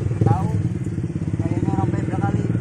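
A motorcycle passes on a newly finished road near Bojong Kulur, Villa Nusa Indah, its engine putter rising and fading close by beneath steady conversation.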